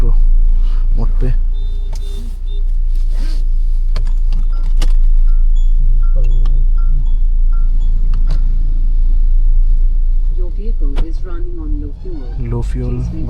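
A Mahindra XUV700 AX7L diesel SUV with an automatic gearbox rumbles low and steady while moving, with occasional interior chimes and clicks as someone talks throughout.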